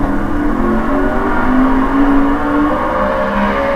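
A 2012 NASCAR Sprint Cup race car engine screams at high, sustained revs around 9,500 rpm at Martinsville Speedway, its pitch climbing slightly and holding steady with no voices over it.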